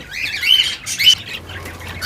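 Pet birds in a wooden breeding box, a parent feeding its chicks: a few bursts of squawking and wing flutter close by, two louder peaks in quick succession, with no talking.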